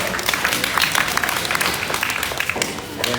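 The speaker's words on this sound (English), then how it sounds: "Let's give her a big round of applause." An audience at a goat showmanship championship at the Arizona National applauds in steady continuous clapping, with an announcer's voice over it.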